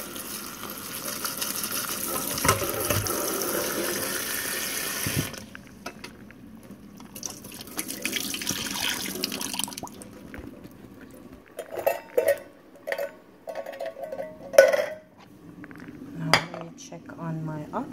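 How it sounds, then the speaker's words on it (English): Oxtail being rinsed under running water in a kitchen while cooking Jamaican oxtail: a steady stream of tap water for several seconds, then quieter splashing, dripping and clinks of pots and utensils. "And I like to give it a little rinse."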